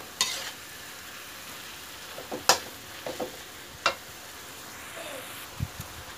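Chaya leaves stir-frying with pork in a pan, a steady low sizzle broken by several sharp scrapes and clacks of a utensil against the pan.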